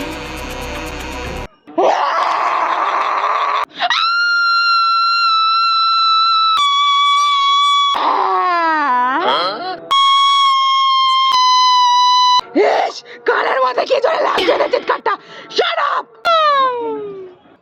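Loud, drawn-out screams and wails from frightened people during a ghost-scare comedy scene, coming in several long, high-pitched bursts with brief gaps and some shorter, falling cries.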